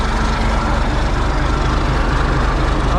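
A straight-piped truck engine idling loudly, a deep continuous rumble with a steady low throb that holds constant throughout, close and alone.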